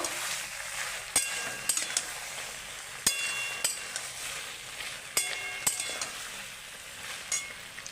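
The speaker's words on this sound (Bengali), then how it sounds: "টমেটোটা দিয়ে একটু নেড়ে চেড়ে নেব" Tomato stirred into a hot frying pan for a mixed poppy-seed curry: a steady soft sizzle broken by a few sharp spoon scrapes and clacks against the pan, with no talking.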